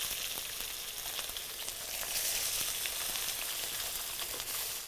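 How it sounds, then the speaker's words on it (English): Fish heads sauté in hot oil in a pan for a curry, giving a loud, steady sizzle and crackle throughout, with no talking. "we are sauteing the fish in oil"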